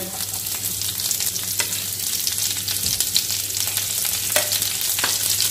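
Garlic fries in a pan for a lemon garlic chicken dish, giving a steady close sizzle and crackle with occasional stirring scrapes.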